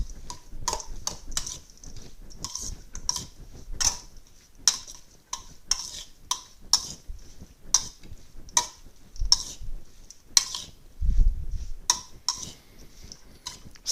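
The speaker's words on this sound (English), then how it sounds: "we're just going to take some tongs like this, and we are going to give it a good stir" Tongs toss a Tuscan zucchini noodle salad in a bowl, giving light, irregular clicks and ticks of metal against the dish with soft wet shuffling between, close by and without speech.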